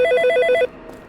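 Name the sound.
telephone ringing in a horror video game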